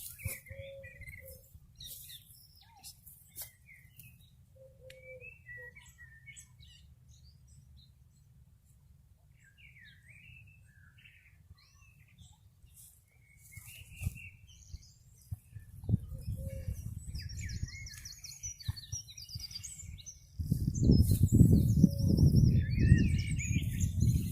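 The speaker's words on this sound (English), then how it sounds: "see if we can hear the different birds" Several birds chirp and trill against a quiet countryside background in the South Downs, scattered calls coming and going, with a low rumble growing louder near the end.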